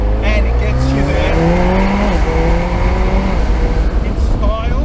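McLaren 720S sports car accelerating hard, its engine note climbing steadily in pitch through the revs as a loud, continuous roar with a brief dip around a gear change.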